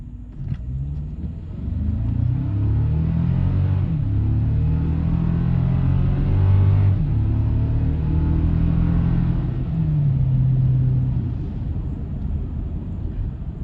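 A 2024 Toyota Tacoma SR5 with a turbo engine, replacing the old V6, accelerating hard from standstill to 60 mph in power mode with traction control off. The engine climbs in a steady loud rumbling drone through several gear changes.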